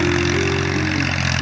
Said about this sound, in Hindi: जो हल चलाते हैं ट्रैक्टर से वो